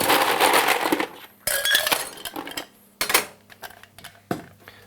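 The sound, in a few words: ice being put into a cocktail mixing glass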